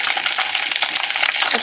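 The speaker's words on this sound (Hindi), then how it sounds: "ये भी ऑलमोस्ट फ्राई हो गए।" Chillies frying in hot oil for Hyderabadi mirchi ka salan give a loud, dense, steady crackling sizzle close by, with no talk.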